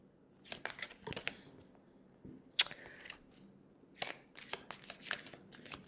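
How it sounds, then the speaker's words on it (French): Oracle cards being shuffled by hand, with quiet bursts of riffling and flicking in irregular clusters separated by short pauses, close and faint. "on les mélange parce que je ne les ai pas mélangés depuis le tirage"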